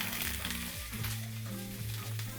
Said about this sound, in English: I'm cooking all these sausages